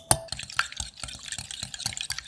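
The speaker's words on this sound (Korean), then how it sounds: "거품기로 골고루 풀어서" Four eggs are whisked in a bowl, a quick run of rhythmic clinking and sloshing strokes that is close and steady, with no talk.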